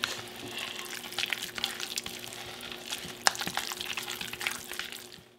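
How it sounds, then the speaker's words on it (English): Basil pesto being stirred by hand into softened cream cheese in a bowl. Soft, continuous scraping and wet smearing sounds with small clicks, fairly quiet and close, no voice. "I'm just going to give this a stir into my softened cream cheese."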